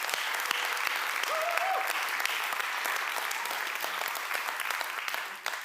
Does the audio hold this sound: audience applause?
yes